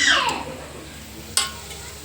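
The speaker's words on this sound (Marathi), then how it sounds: "मला किचनमध्ये ना वरणाला पण फोडणी द्यायची आहे" Tempering (phodni) for cooked dal sizzles loudly in a home kitchen, starting with a bright hiss that fades over about a second, followed by a single sharp clink and a brief renewed sizzle.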